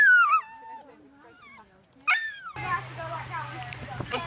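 A small dog whimpers and yips in a high, wavering whine, loud at first, then softer and intermittent, before busy background chatter and shop noise take over.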